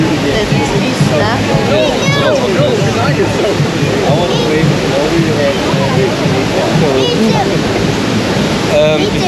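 Rushing water on the Kali River Rapids raft ride at Disney's Animal Kingdom roars as a constant broad wash, with riders' voices and shouts rising briefly above it.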